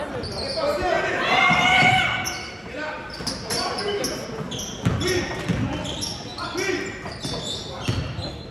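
Basketball bouncing on a gym floor during a tournament game, several sharp dribble thuds scattered through a noisy crowd, with people talking and cheering throughout.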